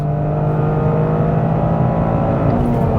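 A Toyota GR Corolla engine drones loud and close during a hill climb, holding steady high revs with a strong, continuous tone and no speech.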